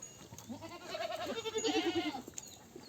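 A goat bleats in a single wavering call of about a second and a half on a goat farm, close and clear against light background noise.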